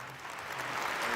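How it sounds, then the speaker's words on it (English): A faint, brief patter of applause from the audience at the 2022 Sunhak Peace Prize ceremony, distant and low in level. "Please give them a big round of applause."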